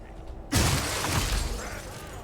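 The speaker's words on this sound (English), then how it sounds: "Break the glass and go in" Glass shatters in the video game Resident Evil 4 Remake, one sudden bright crash followed by a couple of seconds of tinkling, scattering shards.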